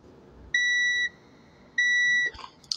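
An inexpensive multimeter gives two clean, steady electronic continuity beeps, each about half a second long, during a check of car turn signal bulbs and wiring in a quiet room.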